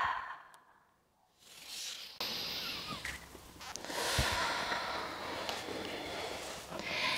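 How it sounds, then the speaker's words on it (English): Slow, deep breathing in a guided breathwork relaxation session, with long airy inhales through the nose and relaxed sighing exhales, close and fairly quiet, with no talking. "Make a few deep inhales through the nose and relax exhales."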